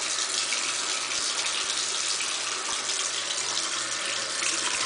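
Tap water runs steadily into a sink during rinsing, an even, close, full gush that holds from start to finish with no voices over it.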